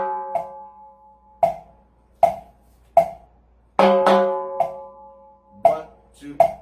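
Sharp, dry timbale rim strokes play a repique pattern in 2/3 clave for salsa, isolated cracks with short ringing tails and a brief flurry in the middle, close and unaccompanied.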